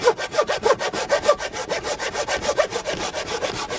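A hand saw cuts through wood in fast, even back-and-forth strokes, each rasping pass close and clear, roughly seven strokes per second with no voices.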